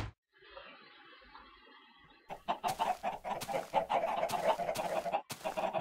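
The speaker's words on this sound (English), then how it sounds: "Got some chicken" Minecraft chickens cluck in a rapid, busy stream after a quieter opening, their short clucks repeating close and fairly loud over a faint mechanical hum, with no voices.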